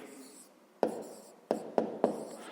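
Pen or chalk writing a fraction by hand during a fifth-grade maths exercise, making faint scratches and four sharp taps in an uneven rhythm, close by, over a quiet spoken voice.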